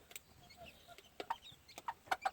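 Gamefowl chickens on a farm give a few short, soft clucks, clustered toward the end amid faint background noise.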